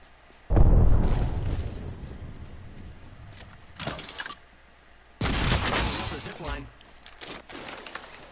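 An Arc Star grenade in the Apex Legends video game detonates with a loud booming blast, followed by a second burst and a longer crackling explosion a few seconds later.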